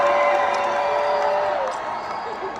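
A packed-house crowd at an MMA fight night in India roars steadily, a dense, continuous wash of cheering with a voice speaking over it.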